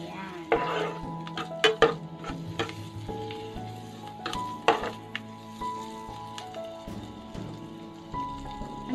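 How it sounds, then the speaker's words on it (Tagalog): Garlic frying in melted butter in a pan, a crackling, spattering sizzle with irregular sharp pops and utensil clinks against the pan. Close and moderately loud, with no talking. "So, lagay na natin ang bawang."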